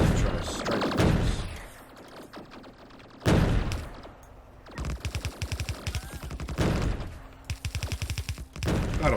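Rapid bursts of laser turret fire from a Factorio base defense line, coming in several loud clusters of quick repeated zaps with brief gaps between them.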